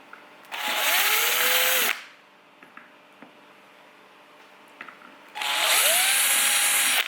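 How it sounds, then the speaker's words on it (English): A power drill whirs loudly in two bursts of over a second each, pitch dipping as the bit bites into ABS plastic, clearing out holes, with quiet handling clicks between. "Just going to run my drill bit through there a little bit, clear the holes out nicely."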